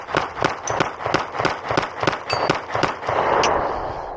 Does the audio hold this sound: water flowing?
no